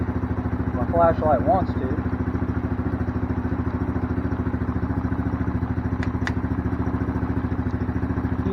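A 1998 Arctic Cat ATV engine idles steadily just after starting, a close, even mechanical rumble with faint clatter that runs the whole time while someone talks briefly over it near the start.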